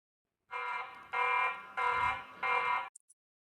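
A TP-Link Tapo C500 security camera sounds its alarm: four loud, harsh electronic blasts of equal length in a steady rhythm, alone, with brief chirps at the end.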